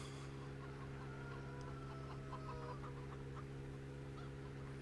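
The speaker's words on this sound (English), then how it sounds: "Run amok chickens." Chickens in the farm-animal pen of an Italian farm map in Farming Simulator 17, clucking steadily at moderate distance over a constant low ambient hum, with no talk.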